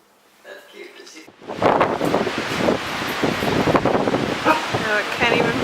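A strong windstorm roars across the microphone outdoors, starting almost silent and then surging into loud, continuous buffeting with gusty swells, while a voice talks beneath it.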